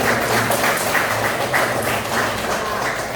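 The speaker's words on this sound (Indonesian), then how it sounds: "Berikan tepuk tangan dulu buat teman-teman." Children applauding together in a classroom, a dense, steady patter of many hands clapping at once that continues loudly and evenly throughout the brief moment.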